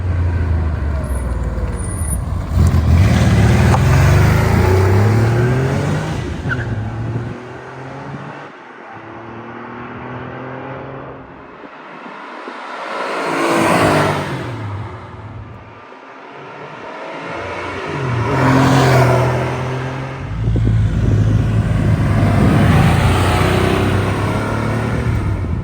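A white 1992 Porsche 911 (964) Carrera RS Clubsport makes repeated flybys, its engine swelling loud as it accelerates past, fading away, then roaring back again in waves.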